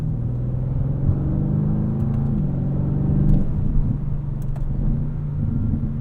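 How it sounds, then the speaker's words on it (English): A 2024 Audi RS7 engine revs with steady low rumble and shifting drone as it accelerates, with a few faint exhaust burbles popping through near the end. "A few burbles out of the exhaust there too."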